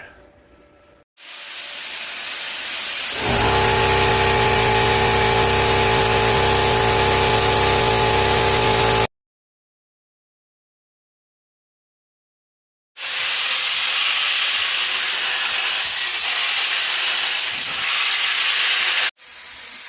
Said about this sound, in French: Donc, le premier projet, couper des plates avec la torche au plasma par Monsieur Bricole Jr.